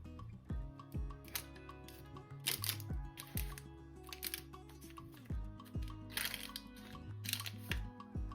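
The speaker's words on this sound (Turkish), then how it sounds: "fırın tepsimizin içerisine patateslerimizi dökelim ve ardından tek tek hepsini dizelim" Potato wedges coated in corn flour are poured and placed one by one onto a parchment-lined baking tray, making soft irregular clicks, taps and paper rustles close by.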